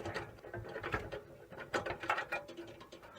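Two screws are backed out while breaking down scrap, giving quiet, close clicking and ratcheting mechanical ticks in a rapid, uneven run with no talking.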